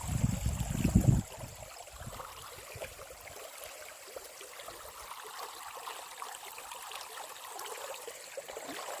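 Clean water pours out steadily in a continuous rushing trickle, with a louder burst in the first second before settling into an even flow.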